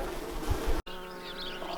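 Honey bees buzz around the entrance of a horizontal hive in winter, a steady close hum with a brief cut partway through.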